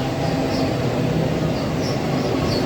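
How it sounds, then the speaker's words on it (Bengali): Kolkata circular rail train pulling out of Dumdum Junction, a loud, steady rumble of wheels and carriage noise heard from on board, with faint squeals above and no talk. "আমাদের ট্রেন দমদম জংশন থেকে বেরিয়ে গেল।"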